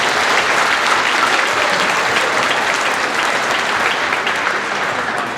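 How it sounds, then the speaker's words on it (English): An audience at a school district concert gives a round of applause for school officials, a dense, even wash of clapping held at steady volume for over five seconds, with no talking over it. "Let's give them one round of applause"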